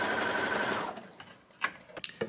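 Sewing machine stitching elastic into a thrifted sweater, a steady mechanical whir for about a second that stops, followed by a few scattered clicks and handling knocks.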